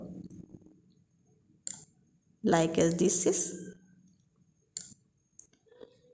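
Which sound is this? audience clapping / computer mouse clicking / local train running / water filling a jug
computer mouse clicking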